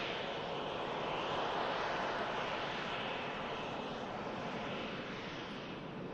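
An Air Transat A321 long range neo airliner approaching to land at Manchester Airport, its engines giving a steady, loud, broad roar that holds for the whole stretch with no talk over it.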